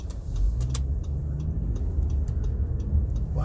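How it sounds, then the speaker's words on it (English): A garbage truck passing nearby, a steady loud low engine rumble and road noise that fills the whole stretch, with faint higher clanks and ticks above it and no talking. "Why is a garbage truck up here?"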